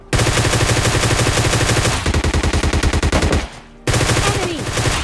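Loud, close automatic gunfire in the mobile shooter PUBG Mobile Lite, rapid bursts of shots in long strings with a short pause before firing resumes.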